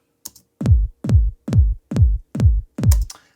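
Six dry, booming kick drum hits at an even tempo, each short and punchy with no lingering tail.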